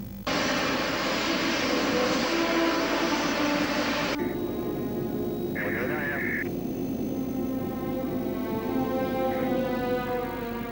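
Patrouille de France jet aircraft roar on takeoff, a loud, sustained engine rumble and whine that holds steady and then shifts, with a brief tonal radio-like beep partway through.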